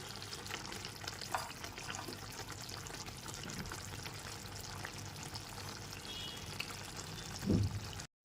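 Hot water poured into a pan of chicken curry with fried potato pieces, a quiet steady sizzle and gurgle of liquid throughout, with a brief stir or clunk near the end.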